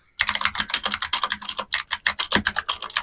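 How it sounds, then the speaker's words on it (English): A mechanical keyboard with clicky blue switches is typed on steadily, a loud, close run of sharp tactile clicks in quick irregular rhythm, alone with no speech. "Now the keyboard I have has blue switches, which are very clicky and tactile sounding, and they are very loud."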